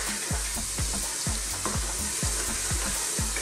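Ground spices with turmeric, coriander powder and fenugreek leaves frying in a pan, a soft continuous sizzle under a regular rhythm of spoon scrapes and taps, close and quiet with no speech.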